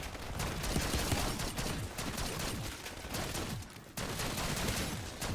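Rapid, continuous gunfire crackles throughout as a sentry turret shoots at zombies in round 29 of Black Ops 6 Zombies, dense bursts with no clear gaps and a slight dip near the end.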